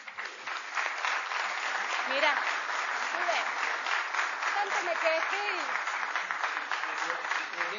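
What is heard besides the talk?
audience applause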